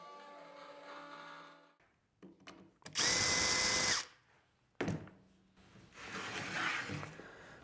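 A CNC router mills aluminum in a single loud, steady one-second burst of cutting, set among quieter workshop clatter and machine noise.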